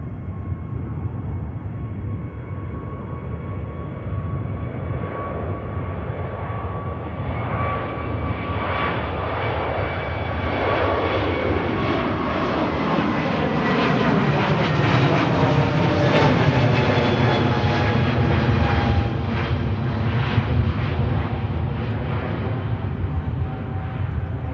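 Turkish Airlines jet departing Manchester Airport for Istanbul gives a sustained, loud engine roar that swells and climbs in pitch over about twenty seconds, heard alone at steady distance.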